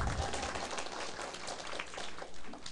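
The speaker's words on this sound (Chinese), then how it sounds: "拍手" Faint audience applause at a lecture, a soft, steady patter of many hands clapping heard from a distance for a few seconds, with no voices over it.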